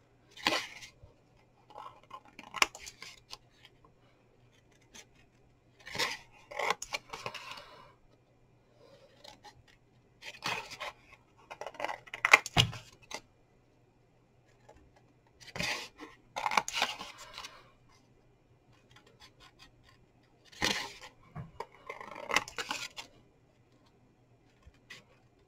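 Scissors snipping through card while a treat box is made, crisp close cuts in short clustered bursts repeating every few seconds against a quiet background.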